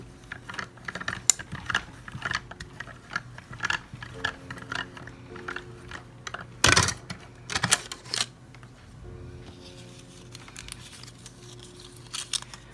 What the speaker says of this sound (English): Sidekick to do our die cutting, along with our cutting plates, and just die cut it.